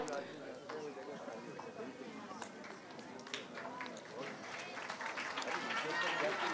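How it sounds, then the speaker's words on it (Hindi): Crowd at an award ceremony during a quiz competition grand finale, giving sustained applause that swells toward the end and blends with background voices and chatter. "ज़ोरदार तालियां"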